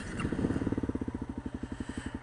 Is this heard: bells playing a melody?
no